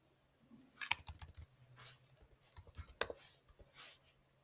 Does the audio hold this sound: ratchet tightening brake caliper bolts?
no